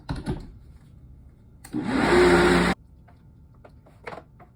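A kitchen blender runs in one loud, steady whirring burst of about a second, starting and stopping abruptly, with quieter household sounds before and after.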